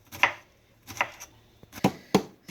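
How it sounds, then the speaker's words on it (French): Knife chopping fresh okra on a cutting board for okra soup, four crisp separate strokes spaced unevenly, close and fairly quiet, with no talking. "Mais entre temps, je dois laver et découper mon gombo."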